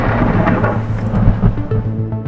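Deep rolling thunder from lightning in a rotating tornado-producing storm near Hawley, Texas, a loud continuous rumble with faint rain beneath and no voices.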